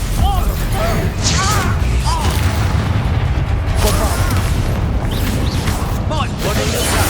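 Expulso explosion spells blast during combat in Hogwarts Legacy, a dense, loud, continuous roar of booms and crashes with brief vocal-like cries scattered through the fight.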